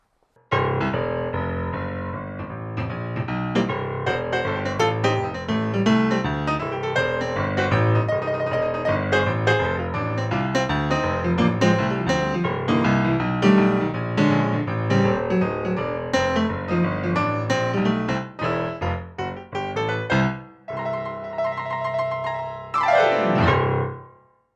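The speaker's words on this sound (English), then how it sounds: "there's a really nice upright piano sound too" An upright piano voice on a Hammond SK Pro keyboard plays a lively bluesy passage with dense chords and a steady rhythm, close and fairly loud, ending with a bright run and a fading final chord.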